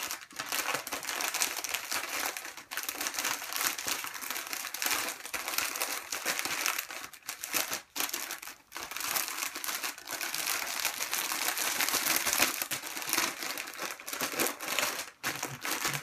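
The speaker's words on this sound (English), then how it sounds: "Wanna put it in the poly bag." A plastic poly bag crinkles steadily as a jersey is pushed inside, a dense close-up rustle running unbroken for about sixteen seconds with brief pauses and no talk.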